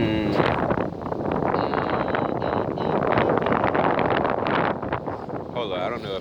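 Strong wind buffets the microphone during an outdoor walk, a loud, continuous broadband roar with gusty swells that lasts throughout.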